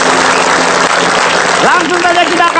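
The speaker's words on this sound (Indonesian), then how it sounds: "Ya, tepuk tangan untuk Jarwo Kuat." Studio audience applause for Jarwo Kuat on a comedy talk show, a short loud burst of clapping with a voice speaking over its end.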